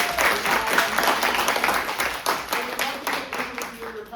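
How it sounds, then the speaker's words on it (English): Audience applause after a senior capstone play reading, with individual claps standing out as the clapping slowly tapers, and some voices and cheers mixed in. "Let's give a big round of applause."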